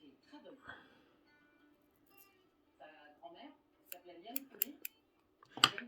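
Fishing line being snipped with scissors while tying a rig, giving a few short, crisp clicks near the end among quiet handling noises and speech.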